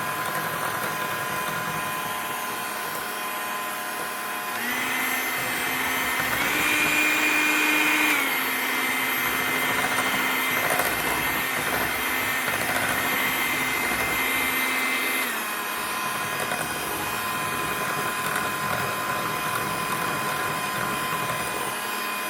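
An electric mixer beats pistachio cake batter at medium speed, a steady, fairly loud whir with a steady tone that steps up in pitch midway and then settles back. No voices over it.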